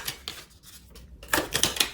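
Tarot cards being shuffled, a series of quick close crisp riffling clicks and flicks in uneven bursts, with a short lull in the middle before a busier flurry.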